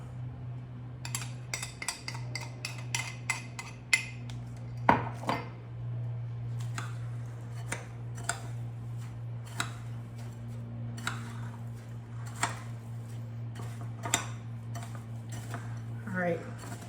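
Spoon scraping and clinking against a bowl while biscuit crumbs are mixed with butter, a run of sharp irregular taps over a steady low hum, with a voice speaking at points.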